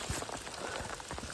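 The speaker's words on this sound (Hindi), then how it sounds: "बारिश और ओले पड़ रहे हैं।" Rain mixed with hail falls steadily on the mountain trail of the Rudranath trek, a dense, even patter of drops and small ice pellets striking the ground, with no voices.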